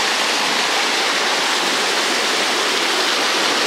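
Water roaring down through the remains of a broken dam, a loud, dense, unbroken rush like a waterfall, close by and with no voices.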